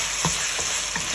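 Garlic and onion sautéing in a pan for bitter gourd with egg, a steady close hiss of frying with a few soft stirring scrapes.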